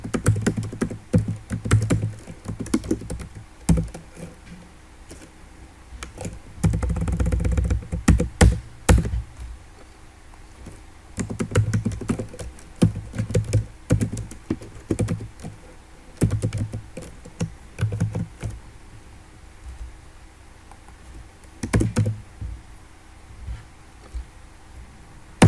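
Code being typed on a computer keyboard, with bursts of rapid close-up key clicks and pauses between them, sometimes thumping heavier, continuing alone without talk.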